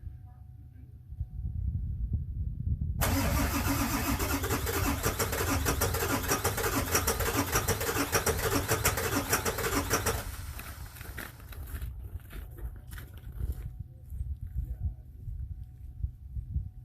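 A 1999 Ford F350 with a 7.3 diesel cranks and fires on a cold start at -7°C, a low, steady loud rumble that swells as it catches, then settles into a rough, clattering idle.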